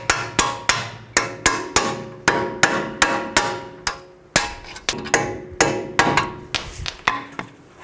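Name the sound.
hammer and punch tapping strut bolts out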